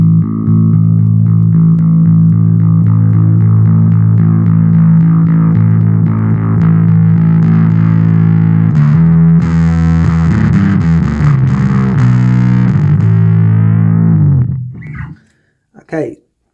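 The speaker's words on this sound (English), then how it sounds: "Now onto the gain control, which is a distortion." Boss Dual Cube Bass LX amp with its gain distortion turned up: a loud, thick, fuzzy sustained bass tone that grows grittier, then fades out, followed by a short pluck.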